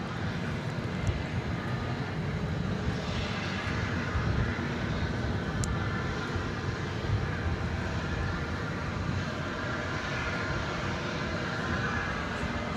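A Boeing 787-9 Dreamliner departs DFW Airport for Melbourne, Australia, producing a continuous moderate jet roar with a broad, even rumble that persists throughout.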